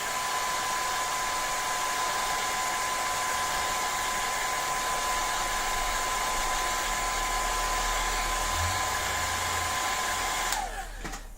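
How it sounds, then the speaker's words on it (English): A blow dryer runs continuously with a steady whirring hum and airy rush, close and constant, then cuts off abruptly near the end. "but I'm going to use my blow dryer."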